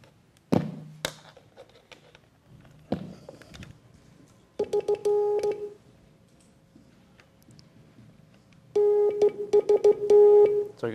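Hand-keyed Morse code with slightly uneven timing: after a few thumps, two bursts of short and long tone beeps sound up close, alone, with no talking.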